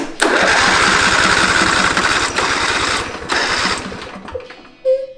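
A John Deere D130 lawn tractor's starter motor cranks rapidly with a rhythmic chugging whir for several seconds, then cuts out, followed by a brief click and hum.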